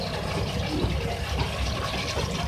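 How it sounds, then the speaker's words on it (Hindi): Water poured into a pot of beef and bottle gourd, a steady gushing fill that runs continuously and close up with no talking. "अब इसके अंदर मैं पानी ऐड करूँगी लौकी को गलाने के लिए"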